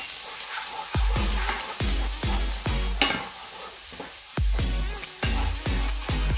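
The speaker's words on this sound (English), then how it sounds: "I'm going to fry the garlic." Garlic fries in hot oil with a soft sizzle, broken by about a dozen sharp knocks and scrapes of a utensil against the pan at an irregular pace.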